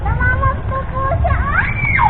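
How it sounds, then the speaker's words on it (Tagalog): Children shriek and squeal as they play, high wavering screams rising and overlapping in a brief, loud burst with a low rumble of background noise beneath. "Narinig ko na din talaga ang mga sigaw ng mga batang ito."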